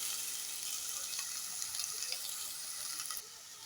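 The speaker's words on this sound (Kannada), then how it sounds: "ಚೆನ್ನಾಗಿ ಕ್ಯಾರೆಟು ಬೀನ್ಸ್ ಎಲ್ಲ ಆಯಿಲಲ್ಲಿ ಫ್ರೈ ಆಗಬೇಕು" Carrots and beans frying in oil for masala pasta, a steady bright sizzle with a few soft stirring ticks, fairly quiet and constant, dropping slightly in level at the end.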